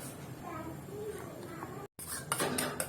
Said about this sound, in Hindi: हम केचप और मायोनीज को फार की मदद से अच्छी तरह मिक्स करेंगे।